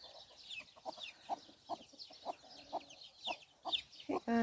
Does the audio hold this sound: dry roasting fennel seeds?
no